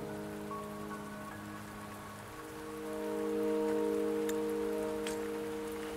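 Rain falling in the video game Wuthering Waves, a soft steady hiss of rainfall under sustained musical tones, fairly quiet and continuous with a slight swell midway.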